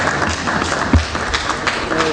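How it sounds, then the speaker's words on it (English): Audience applause for the Governor of Plateau State at a courtesy call, a brief burst of clapping from a crowd mixed with murmuring voices, fairly loud and close. "he equally deserves a bigger round of applause for that wonderful piece"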